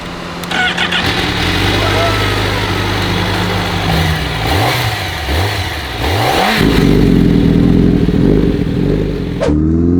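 A Honda CBR1000RR-R Fireblade SP motorcycle engine cranks and catches, then settles into a loud, steady idle close by while people talk over it.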